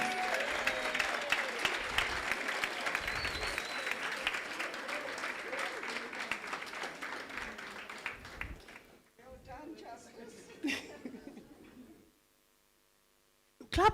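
An audience applauds a winner at a university excellence awards ceremony, the clapping dense and steady for about eight seconds, then thinning out and fading to silence.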